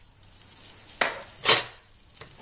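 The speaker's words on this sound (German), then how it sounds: "in die heiße Pfanne kommt jetzt wieder ein kleines bisschen Butter" A small knob of butter meets a hot pan while making pancakes, a quiet frying hiss punctuated by two short sharp sizzling bursts, close and without talk.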